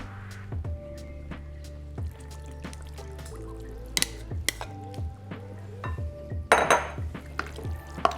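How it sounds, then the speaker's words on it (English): Sauce poured over cooked pasta shells in a dish, with wet dripping and squishing sounds, clinks of utensils against cookware, and a louder splashing burst near the end. "And now that we have our little sauce, I call it, set up kind of to our liking, to your liking, whatever you prefer, you're gonna pour that directly on."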